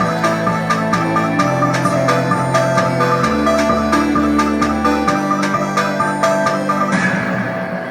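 A song plays through a ZEBRONICS Knock Out portable Bluetooth speaker with its bass switched off, loud and continuous, with a steady beat and repeating notes, thin in the low end, and no voices talking over it.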